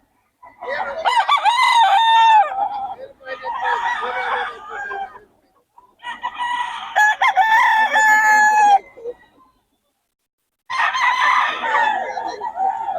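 A pumpkin gamefowl rooster at a festival expo crows loudly and close, with four long, strained crows separated by short pauses.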